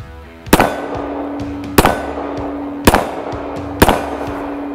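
Canik TP9 Elite Combat pistol with a red dot fired four times at a steady pace, each shot a sharp, loud crack with a brief ringing tail outdoors.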